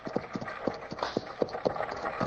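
Horses' hooves clip-clopping at a steady trot as they pull a stagecoach on an old-time radio Western, a regular rhythmic series of close, fairly loud beats with no talk over them.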